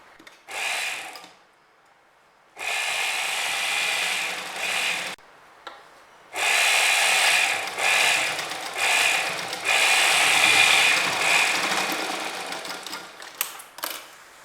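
Sewing machine stitching fabric for a girl's skirt, its motor whirring in several bursts of different lengths separated by short pauses, loud and close, with no talk.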